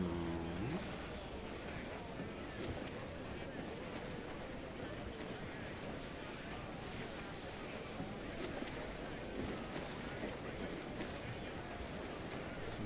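A sailing ship glides across ocean waves in a pirate-themed video game, with a steady broadband wash of surf and wind running continuously throughout at moderate, even loudness and no talk.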